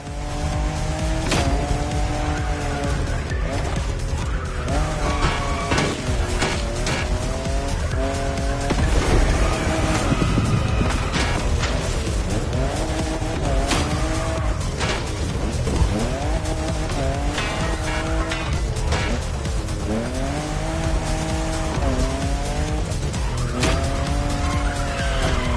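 Toyota Supra of the fifth generation drifting in the racing game The Crew Motorfest, its engine revving hard and tires squealing in long repeated slides, loud and continuous throughout.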